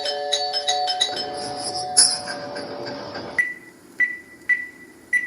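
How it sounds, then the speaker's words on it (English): A doorbell rings repeatedly in short chimes, first a cluster of quick tones, then several separate dings spaced about half a second apart. "These dogs really know how to ring the bell."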